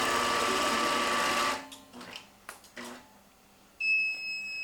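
A computer-controlled quilting machine stitches sashings with a fast, steady mechanical whir for about a second and a half. It stops, a few soft clicks follow, and then bright electronic beeps sound.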